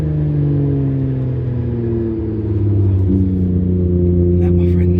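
An orange Cobra's engine revs and drones steadily, loud and close from inside the car on a ride, its pitch climbing with a brief dip near the middle.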